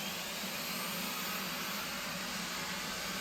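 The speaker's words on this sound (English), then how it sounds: "you're going to crank the right engine" F/A-18C Hornet right engine cranking over in DCS flight simulator, a steady broadband whining rush with a faint high tone, constant and fairly loud throughout.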